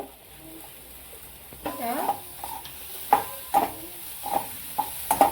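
Radish pods frying in a pan with garam masala and red chili are stirred with a utensil, giving soft sizzling under a string of sharp scraping clinks against the pan, close and moderately quiet.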